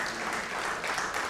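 Audience clapping after a speech at a United Nations 80th anniversary and UNA-Nigeria Day event, a steady, moderately loud wash of applause with no voices.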